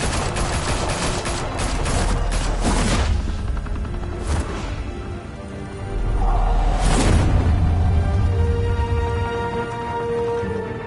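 Sustained gunfire volley in Batman: The Telltale Series, loud and dense bursts with booming impacts and whooshes over several seconds, no voices.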